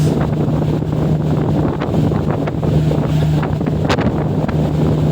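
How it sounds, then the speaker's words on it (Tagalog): Steady wind buffets the microphone at Balanacan port during a boat crossing to Dalahican, a continuous rushing roar with a low engine hum beneath and no voices. "Mahangin na, ganda ng hangin dito."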